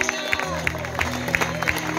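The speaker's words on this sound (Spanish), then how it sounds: "Dele ese aplauso con vida." A church congregation claps during a lively service, rhythmic bursts of applause and crowd noise under a voice and a steady musical drone.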